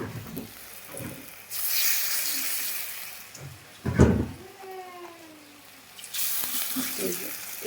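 Thin rounds of bora fritter batter, mixed with a little baking soda, dropped into hot oil give off bursts of loud, close hissing sizzle that rise, fade, and return, with a brief thud between them.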